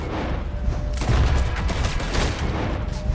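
Gunfire in Red Dead Redemption 2, with a dense, rumbling fusillade of overlapping shots and booms that stays loud and continuous throughout.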